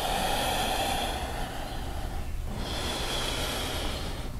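Deep, steady exhale during a yoga session, a long breathy rush of air that stays close and fairly loud, with a brief dip midway before the breath continues.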